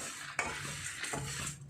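Spices for rasam powder being stirred and dry-roasted in a pan over a low flame, with soft scraping strokes and a faint sizzle, close by and without talk.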